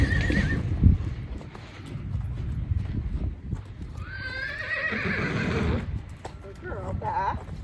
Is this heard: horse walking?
yes